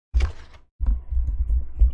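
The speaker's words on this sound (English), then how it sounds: "Almost knocked my microphone over." A close microphone is bumped and nearly knocked over, giving a heavy low thump, a short gap, then a longer series of dull rumbling knocks and handling bumps.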